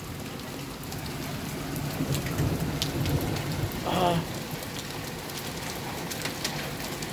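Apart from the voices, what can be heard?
hailstorm, hail and rain falling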